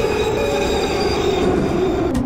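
Subway train from the Metrostroi game running on rails, a loud continuous rumble with steady wheel squeal and hum, close and without speech.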